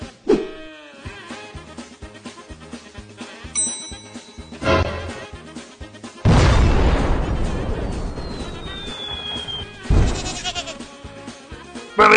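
A goat bleats in a comedic sketch, with sharp cries over background music and loud bursting booms.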